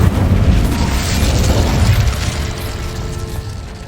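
In the video game Hogwarts Legacy, an Incendio fire spell lets loose a loud, roaring burst of flame that rumbles broadly, then slowly tapers over a few seconds, heard alone.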